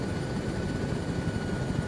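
Helicopter in the ArmA 3 video game, a steady droning rotor and engine hum, moderately quiet and continuous, with no talk over it.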